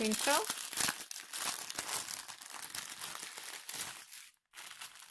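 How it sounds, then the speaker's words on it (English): Plastic packaging of a diamond painting kit crinkles loudly and continuously up close for several seconds, then briefly goes quiet before the crackling starts again, and a voice talks over it. "sorry about the crinkle"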